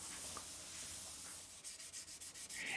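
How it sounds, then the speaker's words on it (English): Sandpaper rubs dry across a guitar's clear coat finish, a soft close scratching that turns into a series of quick back-and-forth strokes near the end. "dry sanding generates a lot of dust, so you've got to make sure to clean it off with a soft paper towel every so often"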